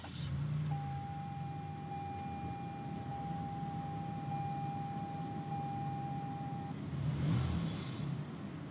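A 2019 Toyota Highlander Limited Platinum started by push button: a steady interior hum with a long electronic tone, then a brief swell of engine noise near the end as it comes to life.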